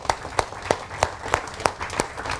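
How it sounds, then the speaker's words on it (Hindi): Audience at a motivational talk in India clapping together in a steady, rhythmic beat, about eight sharp claps in quick regular succession. "जोरदार तालियां इन लोगों के लिए।"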